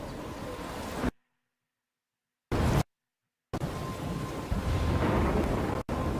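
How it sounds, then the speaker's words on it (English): Thunderstorm in the game Life is Strange: loud, broad rumbling bursts of storm noise, cut by two stretches of total silence, then returning as a sustained roaring wash to the end. "I'm trapped in a storm?"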